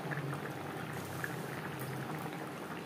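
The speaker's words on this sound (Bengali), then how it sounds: "গ্রেভি ফুটে ওঠা পর্যন্ত অপেক্ষা করব।" Pangas fish curry gravy boils in a pan, making a steady close bubbling simmer that carries on alone without any voices.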